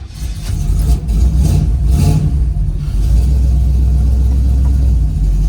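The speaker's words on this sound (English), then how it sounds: "let's bring up that idle. just mess with the gas a little bit." An old car engine, first run in over 37 years, idles with a loud, close rumble and swells into revs as the gas pedal is pressed a few times, with no talking over it.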